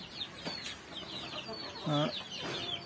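Several young native chickens cluck and chatter nearby in a coop, with short bursts of squawks over a low background murmur.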